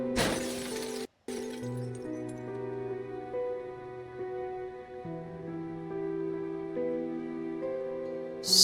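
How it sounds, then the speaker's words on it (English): A character's face shatters in the video game Dredge: a loud, bright glassy crack bursts at the start and breaks into scattered fragments, then a low synth tone and music carry on, with a second sharp crash at the end. "His face shatters and falls to the ground."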